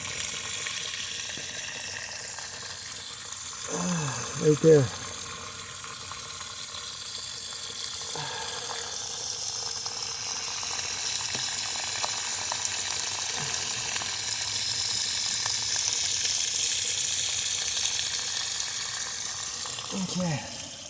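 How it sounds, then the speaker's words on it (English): Water sprays steadily from a broken PVC pipe elbow that has come loose, a constant hissing rush lasting throughout, with brief bursts of nearby speech over it early on and at the end. "And there's the elbow shooting out the water."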